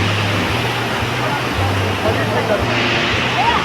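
The Dudh Koshi river rushes alongside a trekking trail near the Hilary Bridge on the way to Namche Bazaar in the Everest region, a loud, continuous roar of churning water with periodic low pulsing tones in the background.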